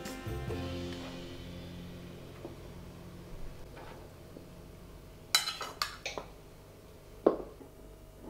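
Metal clank against a pot followed by a ringing tone, then scattered clinks and splashy knocks of pork being lowered into a cooking pot of water for bak kut teh.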